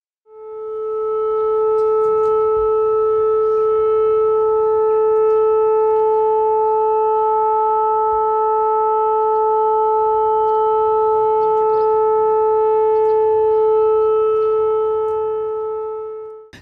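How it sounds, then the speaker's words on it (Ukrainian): Steady wailing air raid siren sounding over Sumy after a Shahed drone strike, a loud sustained tone with stacked harmonics holding for the whole stretch with no voices. "Пригнічує стан чергова повітряна тривога."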